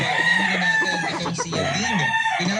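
A white-legged Sweater gamecock rooster crows close and loud, with a few strained, warbling calls and clucks that run together over the short stretch.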